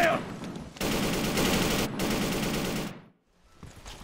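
Sustained automatic gunfire from a video game battle, a dense loud burst of rapid shots lasting nearly three seconds with a brief break, then fading to quiet with faint noise.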